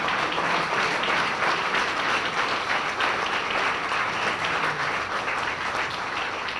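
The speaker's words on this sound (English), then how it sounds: "if everyone would join me again in a round of applause" A standing audience at a chamber of commerce dinner applauds in honour of healthcare workers; sustained, dense clapping from a large room, steady and loud with no talk over it.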